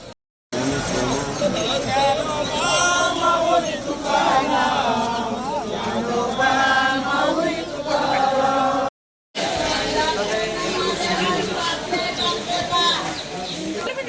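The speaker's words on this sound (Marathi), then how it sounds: "गर्दी खूप आहे." A large crowd fills a Kartiki Ekadashi town procession with dense, loud babble and chanting voices that continue almost without pause, briefly cutting out before resuming.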